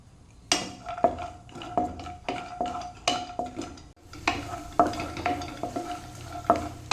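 Peanuts fry and get stirred in a pan for rural-style jackfruit-seed laddu, a steady run of scraping spoon strokes and clinks against the metal over a low sizzle, close and fairly loud, with no talking.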